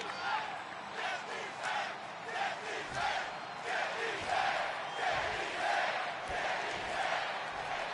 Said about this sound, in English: Crowd chanting, "Get these hands."